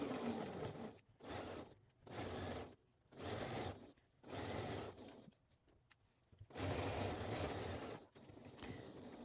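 A sewing machine stitches a curved pocket seam on a dress in bursts, about six runs of rapid whirring separated by short pauses, close and fairly quiet.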